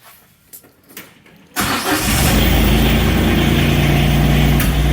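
A Polaris Ranger UTV engine cranks with the key and catches, settling straight into a loud, steady idle after a few quiet clicks.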